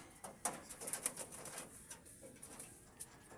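Breeder pigeons coo softly in short, repeated low murmurs mixed with faint bird chirps and rustling, quiet and close, with no talking.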